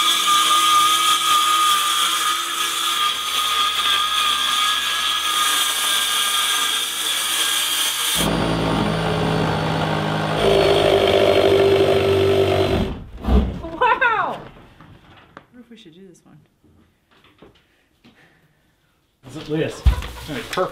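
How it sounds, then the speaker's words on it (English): A power saw roars loudly and continuously as it cuts a window opening in the siding of a chicken shed, then stops, leaving voices talking nearby amid short bits of quiet. "we're gonna cut a hole in the shed"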